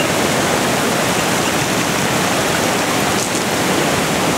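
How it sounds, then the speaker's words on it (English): A waterfall roars as a steady, loud wash of broadband rushing water, unbroken and close throughout. "There's a waterfall in there."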